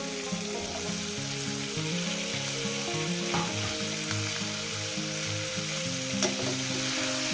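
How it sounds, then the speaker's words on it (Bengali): Egg with snake gourd, green chilli and onion fries in a pan with a loud, continuous sizzle under a steady hum of background music, with no one speaking. "কাঁচা লঙ্কা পেঁয়াজটা দিয়ে আরও আমি চার পাঁচ মিনিট ভেজে নেব"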